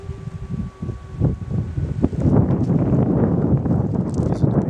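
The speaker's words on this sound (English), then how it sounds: "That's why we have wind coming up from the valley all the time." Wind rises from a big valley at the Goddess Temple site, buffeting the microphone with a continuous broadband rush and rumble that grows stronger partway through, along with faint rustling.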